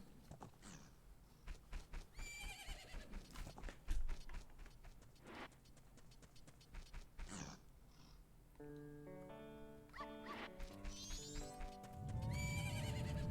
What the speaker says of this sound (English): Oh yeah, and our horse is here.